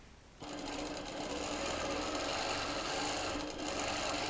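A sewing machine runs steadily, putting a basting stitch along the inner edge of a quilt; after a short quiet start it hums continuously and close up, with no talk.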